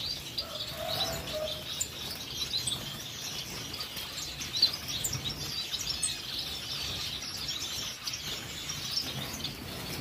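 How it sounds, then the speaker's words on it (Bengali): Parrot finches in a breeding aviary give repeated bright, high chirps and tweets over a constant soft background hum, with no voices. "প্যারট ফিঞ্চটা আপনাদেরকে একটু দেখিয়ে দিই।"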